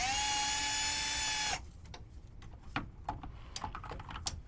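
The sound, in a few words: power drill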